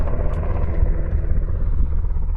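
Helicopter flying low over a highway in the Nevada desert, a loud, steady broadband rumble with dense low-frequency beating throughout, close and unbroken.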